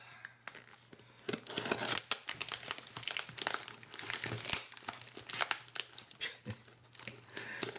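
Heavily taped package being sliced and pried open with a knife: rapid crinkling, crackling tape and plastic rustles, close and busy throughout, with brief tearing bursts.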